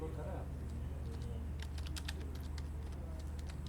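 Computer keyboard keys being typed in a quick cluster of clicks, fairly faint over a steady low hum, during a walkthrough of installing MongoDB Community Server.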